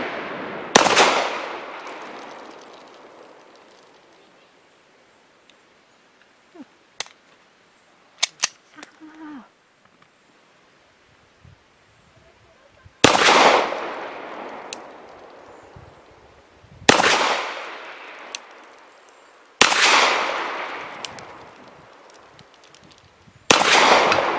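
A Girsan Regard pistol, Zenith import, is fired: one loud sharp shot, a long stretch of quiet clicks and handling noise, then four more loud cracks at a steady spacing, each with a ringing, decaying tail.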